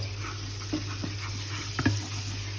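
Ginger sizzles in hot cooking oil, a soft continuous frying hiss broken by a few light stirring scrapes and pops, fairly quiet and close, with no one talking.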